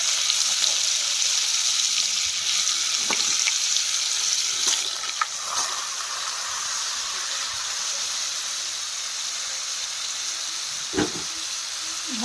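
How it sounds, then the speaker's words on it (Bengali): Cauliflower frying in hot oil with cumin seeds, whole garam masala and a bay leaf gives a steady, close sizzling hiss with a few faint clinks. "ফুলকপিটাকে ভাজা বসিয়ে দিচ্ছি।"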